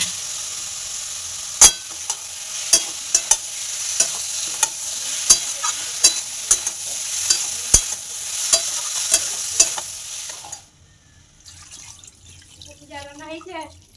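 Spice paste of cumin, tomato and onion frying in a wok for a fish curry, giving a close, steady hissing sizzle with sharp clicks of a spatula against the pan. The sizzle stops and a voice talks near the end.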